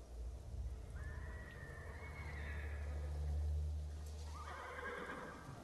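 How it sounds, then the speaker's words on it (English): Horses neigh and whinny in the video game Ghost of Tsushima, with faint galloping hoofbeats under a steady low rumble, heard fairly quietly and distant, without talk. "Oh, I gotta kill horses."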